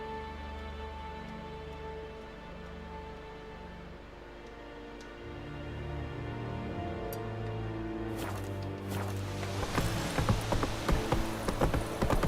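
Hooves of the horse Roach clip-clop at a steady rhythm in The Witcher 3. They sound moderately near, and a denser burst of clatter and game sounds builds toward the end.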